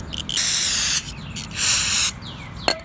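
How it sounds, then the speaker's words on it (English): Two long bursts of aerosol brake cleaner hissing close by onto an oil stain on a driveway, each about half a second, with brief quiet between and a small clack at the end. "with the brake cleaner here, I'm just going to spray the spot"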